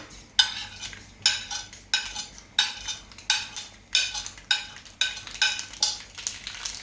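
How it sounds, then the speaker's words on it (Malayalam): Mustard seeds hit hot coconut oil, with a steady sizzle broken by a regular series of sharp scraping strokes, roughly one every half second, close and moderately loud. "ഇപ്പുറത്ത് വെളിച്ചെണ്ണ നന്നായിട്ട് ചൂടായി ഞാൻ കടുക് അങ്ങോട്ട് ഇട്ട് കൊടുക്കുകയാണ്"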